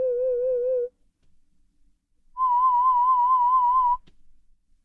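Two steady pure electronic tones, the first lower in pitch and the second higher, separated by a short quiet gap.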